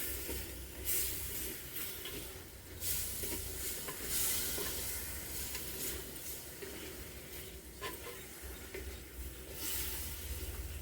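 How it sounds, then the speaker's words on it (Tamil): Chicken is stirred into a simmering curry in a pan, giving a continuous scraping stir under a soft bubbling sizzle, close and steady with no voices. "சிக்கன் சேர்த்துக்கிட்டு நல்லா கலரி விட்டுக்கலாம்"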